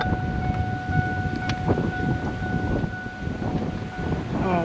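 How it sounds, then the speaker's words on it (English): Strong wind roars steadily across an open campground, buffeting the microphone with gusty rumble. A faint tonal hum runs underneath. "Oh man, it's windy."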